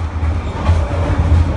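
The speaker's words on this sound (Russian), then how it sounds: "несешься, стыки, все гремит, все шатается, и поезд вот-вот перевернется" A train in Vietnam rattles and clanks over rail joints, heard from inside a carriage with wood-panelled interior, loud continuous rumble with rhythmic clacking and no talking.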